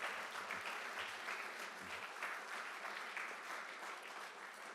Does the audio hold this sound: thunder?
no